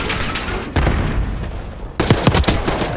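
Gunfire crackles in the Black Ops 6 multiplayer video game, with loud, close bursts of rapid shots that break off and resume, over booming in-game combat noise.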